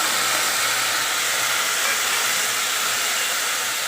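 Potatoes and onion sizzle in hot oil in a pan for potato thoran, a steady, loud, broadband hiss that holds evenly throughout with no voices.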